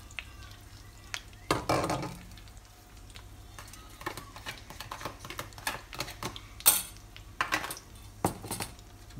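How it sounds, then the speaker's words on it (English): Crab is stirred into chili mayonnaise with lemon juice in a bowl, giving quiet, intermittent scraping and clicking bursts of spoon against dish with soft pauses between strokes. "mix some of that with the crab."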